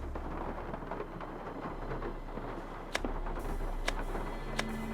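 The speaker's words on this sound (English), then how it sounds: "Oh, that raining is very cozy though." Steady rain patters and hisses through a scene in the Nancy Drew: Legend of the Crystal Skull video game, a dense continuous wash with a few faint sharper ticks on top.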